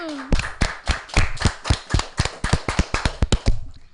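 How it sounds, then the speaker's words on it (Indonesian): A small audience claps for a children's stage performance, a burst of steady, fairly close handclaps with uneven rhythm that thins out and stops near the end. "beri aplaus yang meriah untuk penampilan mereka berdua dong"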